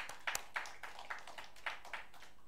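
A church congregation clapping during a sermon, soft and fairly distant, with a few sharper claps standing out from a thin, uneven patter.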